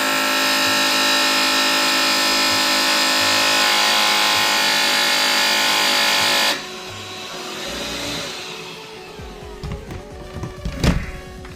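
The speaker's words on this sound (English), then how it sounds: "You push it down and it basically just sends down a metal piece all the way across, which catches on the bristles and cleans them supposedly" An Electrolux Ergorapido cordless 2-in-1 vacuum runs with a steady loud motor whine, then its metal bristle-cleaning comb is pushed across the brush roll, giving a rough scraping, ratcheting clatter that ends in a few sharp knocks.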